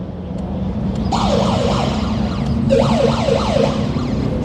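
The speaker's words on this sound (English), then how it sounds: "I don't think I've ever heard that siren sound before" A wailing emergency siren sweeps up and down in two bursts over a constant low rumble of traffic during street unrest with police in Los Angeles, loud and fairly close, with no voices.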